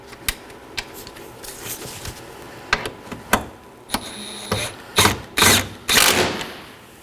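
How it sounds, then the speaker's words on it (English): A ratchet snugs down two 10mm bolts on a Nissan Sentra headlight cover, giving scattered sharp clicks that build into louder, denser bursts of ratcheting near the end, close and without speech. "And now to reinstall our two 10mm bolts. I'm just going to snug these down."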